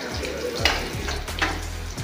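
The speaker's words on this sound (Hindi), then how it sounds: "ये गया लहसुन, ये गया अदरक, अच्छे से हम थोड़ा सा इसको भून लेंगे।" Garlic and ginger fry for dal with a close, steady sizzle, broken by a couple of brief stirring scrapes and a low rhythmic knocking underneath.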